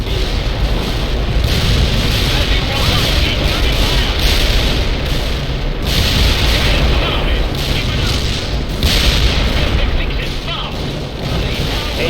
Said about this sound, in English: Airstrike accomplished.